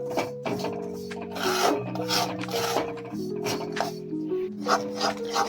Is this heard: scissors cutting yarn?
no